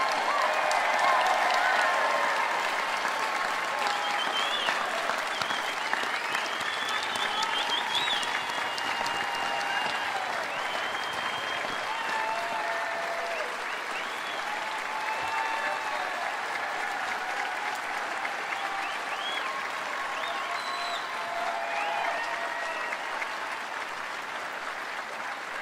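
Long, sustained applause from a large audience at a college diploma ceremony for new graduates, a broad even roar of clapping with some cheering and background voices mixed in throughout.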